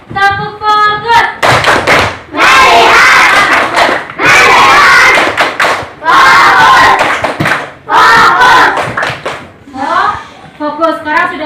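A primary school class claps the rhythmic focus clap, loud bursts of patterned clapping and chanting in unison, broken by short pauses and the teacher's voice.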